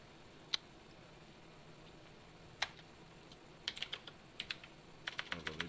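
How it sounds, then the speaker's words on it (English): Typing on a computer keyboard: sparse, faint key clicks at first, then quicker clusters of taps toward the end over a quiet room hiss. "They're just doing their own thing. Dancing on the keyboard."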